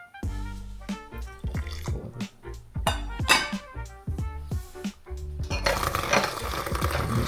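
Water being poured for matcha, close and clear, beginning as a series of distinct drips and splashes into a vessel and then running into a steady stream near the end.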